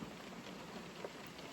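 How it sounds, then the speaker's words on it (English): Rain falling on a parked car, a dense, steady patter of drops on the roof and windows, continuous and fairly soft with one slightly louder drop partway through. "it's raining again"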